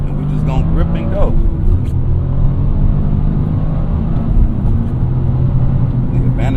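A Toyota GR Corolla with all-wheel drive cruises on a highway, a steady loud engine and road rumble filling the cabin while someone talks over it.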